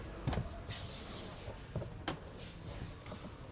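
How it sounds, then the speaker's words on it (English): Faint mechanical clunks and a soft whirring slide sound as a BMW i5 M60 or i7 power door closes automatically and latches shut, with a few knocks and light background noise. "and the door will shut automatically."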